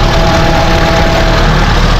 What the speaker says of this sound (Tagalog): Mitsubishi Lancer 4G15 ang makina.